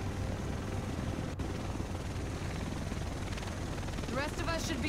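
Helicopter in the video game The Division, a steady broadband rotor and engine drone filling the whole stretch at constant loudness, with game sounds mixed in.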